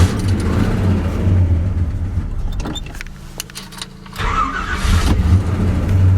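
1971 Chevy C10 truck cold-started on a chilly 45-degree morning, the starter cranking, the engine catching and idling with a loud low rumble, dipping briefly, then revving back up and settling into a steady idle.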